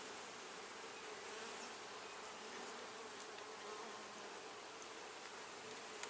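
Honeybees on a hive frame make a steady, dense buzzing hum throughout, even and continuous, with no talking over it.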